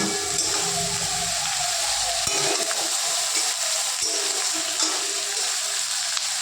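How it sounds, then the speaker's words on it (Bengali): Spice paste sizzles and fries steadily in a pan for a Bengali cauliflower and rohu fish curry, with scattered scraping and stirring clicks over a continuous hiss at moderate level. "এদিকে মামনি মশলাটা কষিয়ে নিচ্ছে ভালো করে"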